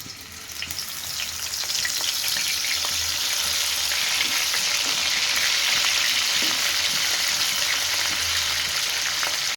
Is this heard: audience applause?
no